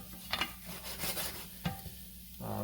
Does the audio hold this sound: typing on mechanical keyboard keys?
no